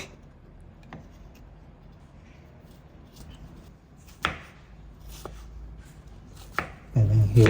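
A knife chops vegetables, tomato and ginger for salmon head soup, on a board in a few separate sharp, close thuds spaced by quiet pauses, followed by a louder clatter at the end, with occasional speech.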